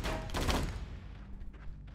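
A couple of sharp gunshots from the GameCube game Die Hard Vendetta crack at the start and fade into a low game hum, brief and fairly quiet.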